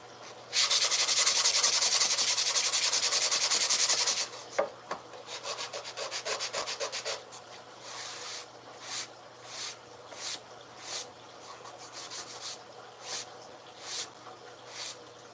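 Sandpaper rubbed by hand over wood with worn, nearly split grit, starting as a loud continuous scrubbing, then breaking into shorter back-and-forth strokes that turn into spaced, rhythmic rasps, close up with no talking.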